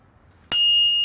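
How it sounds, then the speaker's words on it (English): A single bicycle bell rings once, sharp and bright, then holds a clear sustained metallic tone after near silence. "Oh, it rang its bell for me."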